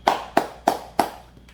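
Four sharp hand claps in an even, steady rhythm, close and clear in a room, followed by a faint fifth tap.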